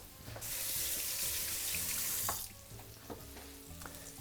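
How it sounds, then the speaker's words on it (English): Hands are washed under a running kitchen tap, a loud rush of water for about two seconds, then it stops, leaving quieter clinks and a faint sizzle of frying in the background. "Wash my hands."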